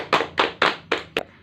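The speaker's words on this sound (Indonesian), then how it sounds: "mari kita beri tepuk tangan dulu" Participants in a training session clap their hands, five distinct, fairly close claps in an even rhythm, the final one sharper and shorter.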